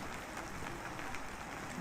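Rain falling as a soft, even hiss, faint and steady throughout, with no voices over it.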